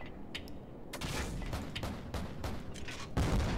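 AC-130 gunship cannon fire in Call of Duty Modern Warfare 2, a Spec Ops mission: a string of sharp, heavy booming shots in an irregular rhythm, with a louder blast near the end and no talk over it.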